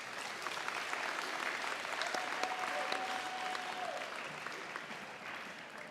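Steady audience applause at a high school awards ceremony for student musicians, a dense, even wash of many hands clapping at moderate volume throughout with a faint background tone.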